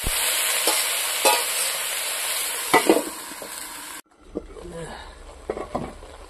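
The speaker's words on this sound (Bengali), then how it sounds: "দেবো স্বাদ মতো লবণ, ভালো করে ঘাটাঘাটি করে ঢেকে দেবো।" Khuria greens being stirred with salt in a pan, a steady sizzle under scraping strokes of a spatula, with a brief fainter stretch near the end.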